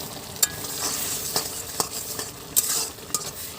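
Mustard greens stir in a hot pan just after the lid comes off, a steady sizzle with scattered scraping clicks of a spoon or spatula against the metal, close by and with no talking.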